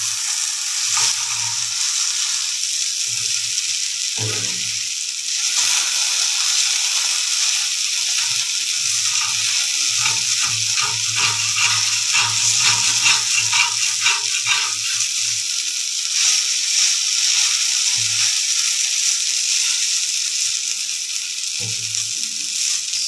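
Potatoes frying in a little oil with dried chili and turmeric, a steady close hiss of sizzling throughout with occasional soft stirring scrapes and low knocks, no voices.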